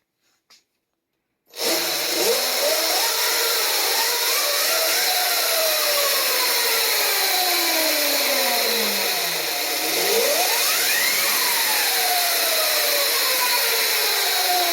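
KO Factory Spec electric RC motor with an ASI BAC4000 controller spins up on a stand, a loud steady whine rising and falling in pitch, then sweeping up again near the end.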